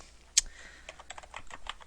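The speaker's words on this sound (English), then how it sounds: "we're going to type in our article name" Quick, light keystrokes on a computer keyboard, one sharper click followed by a string of soft, closely spaced taps, close and quiet with no talking.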